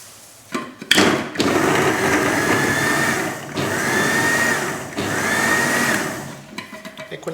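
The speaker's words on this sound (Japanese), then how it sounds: "フードプロセッサーを使います。" Food processor blades chopping bread into fine crumbs, whirring in short bursts with rising motor whines between pauses, loud and close.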